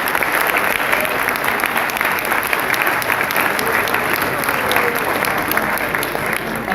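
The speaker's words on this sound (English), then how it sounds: "give a huge round of applause" Sustained applause from an audience at a college annual prize distribution programme, dense steady clapping throughout with faint crowd murmur and no clear talk on top.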